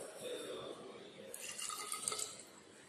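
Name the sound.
water poured into a measuring cylinder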